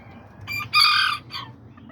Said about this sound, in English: this is my little rooster, my little pintito right here